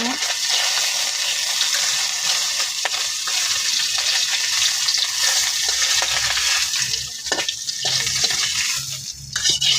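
Fish frying in a kadai, a dense continuous sizzle with occasional stirring scrapes, loud and close throughout.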